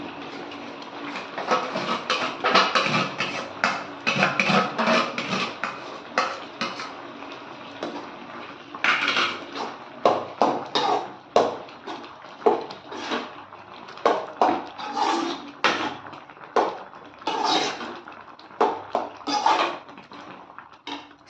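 A spoon scraping and knocking around a pot as lentils are mixed into cooked spinach, steady repeated metallic strokes and clatters with brief pauses, close and fairly loud, no talking.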